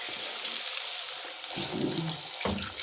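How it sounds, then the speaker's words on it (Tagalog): Water is poured into a cooking pot of miswa and patola, a faint, steady splashing with a couple of slightly fuller gushes. "lagyan na natin ng tubig"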